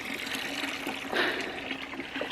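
Water runs from a heated hose on a snowy North Idaho homestead in winter, a steady splashing flow with a brief surge near the middle, close and moderately loud, alone.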